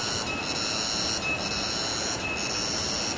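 Cicadas buzz in Bali in a loud, steady, high-pitched drone that fills the whole stretch without a break. No voices.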